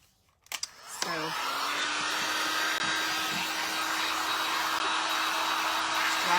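Handheld drying tool blowing steadily on wet stain on a craft project, a loud continuous whirring rush that starts after a few clicks and holds for several seconds.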